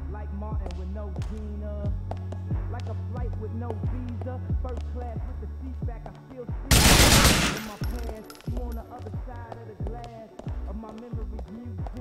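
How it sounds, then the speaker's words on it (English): Gunfire from a GTA IV weapon erupts as a loud, dense burst lasting about a second midway, standing out over the game's steady backing music and effects. "the gun and weapon sounds are some of the most amazing I've ever heard"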